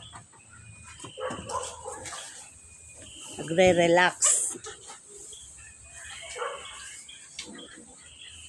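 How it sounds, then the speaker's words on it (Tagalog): A dog gives a short burst of barking and yelping at close range beside a cliff edge, with quiet talking before and after and faint insects in the background. "Yan ang aking mga aso."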